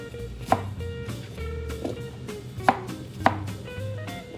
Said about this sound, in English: we're going to core and chop our apples into nice small pieces